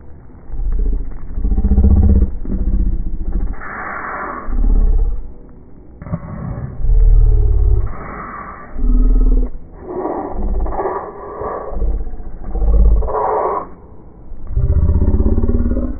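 A 2019 Harley-Davidson Road Glide Special in industrial grade denim, its engine rumbling loud and near in repeated throttle blips that swell and fall across the whole stretch, with no talk over it.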